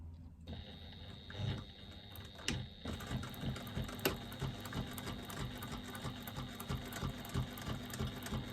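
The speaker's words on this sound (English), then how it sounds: "I'm just going to pop a couple of extra stitches there to make sure that that's secure" A sewing machine stitches a fabric penny pouch, a steady close mechanical whir with fast even needle ticks running throughout after a brief start, quiet overall.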